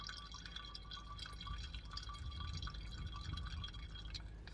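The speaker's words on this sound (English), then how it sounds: "So obviously the new fluid's coming through and the old fluid's coming out." Old brake fluid drips and trickles from the brakes of a 2017 Skoda Citigo during a brake fluid change, a faint steady run of small drips in a quiet garage with no talk.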